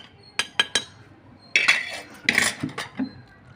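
Tomatoes being ground with a pestle in a stone mortar for a peanut tomato chutney: three sharp, close knocks, then a grinding scrape and a few more clinks. No voices.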